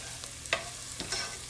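Regular long grain rice sautéing in a pot for Jamaican rice and peas, giving a soft, steady sizzle with a few brief stirring scrapes near at hand, no talking.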